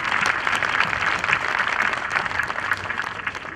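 A graduating high school class at a commencement ceremony claps and cheers, with dense, steady applause that stays loud and continuous throughout.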